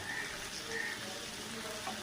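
Prawns frying in a pan with onion, garlic, turmeric, chili powder and salt, a steady close sizzle with faint stirring, no talking.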